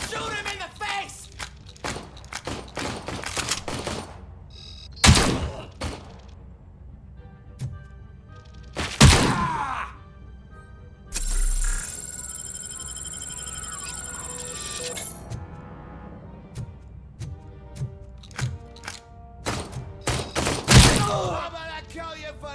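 Sharp, scattered gunshots crack out in the shooter game RoboCop: Rogue City, isolated loud bangs spaced several seconds apart among quieter clicks and thuds, with a brief tonal burst in the middle.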